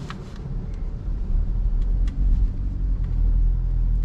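A Honda Civic e:HEV creeps slowly up a steep ramp, a steady low rumble of road and tyre noise with a few faint clicks and knocks, no voices.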